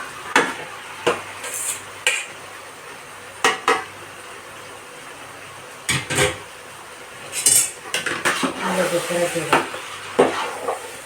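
Raw washed chicken goes into a pot of chicken biryani masala and gets stirred, with a steady sizzle underneath and repeated sharp clanks and scrapes of a metal spoon against the pot, close and fairly loud.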